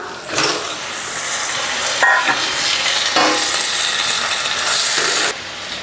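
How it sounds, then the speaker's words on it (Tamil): Washed chicken goes into a pan of frying ginger and garlic, setting off a loud, continuous sizzle with scraping stirs and a few sharp surges as the pieces hit the hot oil. "1/2 கிலோ சிக்கன் வந்து கழுவி எடுத்துருக்குறேன், அதை போட்டுக்கலாம்"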